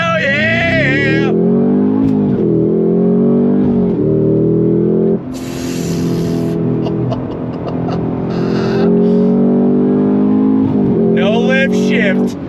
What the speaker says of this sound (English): I love the sound of this V8